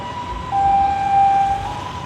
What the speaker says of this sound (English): Oh, here come the police. Ambulance, sorry.